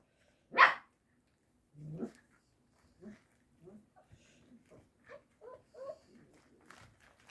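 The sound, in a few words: dog barking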